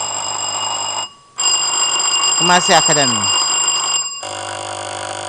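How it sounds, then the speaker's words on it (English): Answer bell ringing at a school quiz contest between Kumasi Academy, Mfantsipim School and St. Mary's, a bright ringing burst in the middle over steady background hum, with a voice speaking around it. "When you are ready to give your solution, you ring the bell to alert me."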